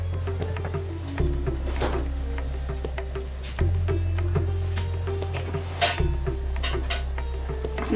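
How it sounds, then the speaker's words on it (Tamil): A pan of Kashmiri dum aloo gravy bubbles at a steady boil with coriander powder stirred in, giving a close, continuous sizzle and popping, with a low burner hum underneath and no voices. "இப்போது நல்ல ஒரு கொதி வந்திருக்கு."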